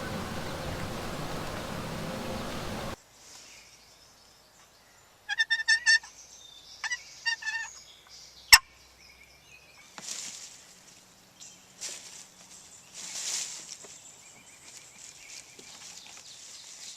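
Wild turkeys gobble in fall woods in a few separate bursts set against quiet pauses. The calls are moderately distant, and a short burst of broadband noise comes first.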